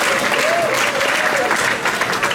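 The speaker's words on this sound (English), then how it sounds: "Give those guys a round of applause." Banquet crowd gives a loud, continuous round of applause for the wrestling team, with dense clapping throughout and a faint voice briefly audible beneath it.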